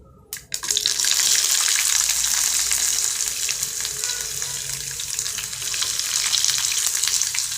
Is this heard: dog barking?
no